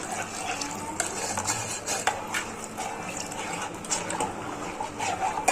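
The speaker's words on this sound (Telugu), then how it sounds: "ఇది ఇలా ఉండలు లేకుండా పోసుకుంటూ కలుపుకోవాలి." A spoon stirs cooled milk into a mixture in a pot to keep it free of lumps, making soft liquid swishes and light, scattered clinks against the vessel.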